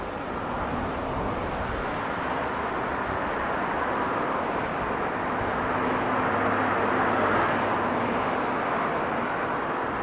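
A C-5 military transport aircraft at Kadena Air Base in Okinawa, heard as a steady, broad jet roar that holds throughout, swelling slightly toward the end with no one talking.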